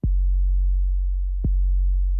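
Unprocessed Logic ES2 synth patch: a deep, pure sub-bass tone that starts with a sharp pitch-dropping attack, sustains, then retriggers with the same click-and-drop around halfway through, clean and alone.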